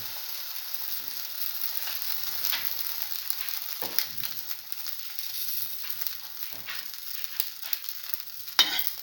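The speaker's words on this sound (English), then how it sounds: "Now dip the sandwich in the cinnamon egg mixture. And let it fry." A sandwich dipped in cinnamon egg mixture fries in a pan with a steady, close sizzle, broken now and then by brief stirring and scraping sounds; no one speaks.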